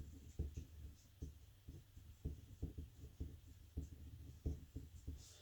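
Tangent lines are drawn on paper with a pencil, giving a steady run of soft, close scratching strokes in an even rhythm.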